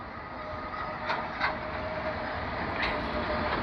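A double-engine freight train rolls past, its steady low rumble of wagons filling the clip, with a few sharp metallic clanks and squeals rising over the continuous noise.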